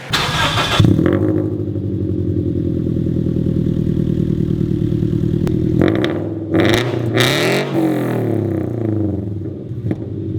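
A Scion FR-S with an aftermarket exhaust starts and idles loudly, then blips the throttle in a few sharp revs near the end, close and alone without talk.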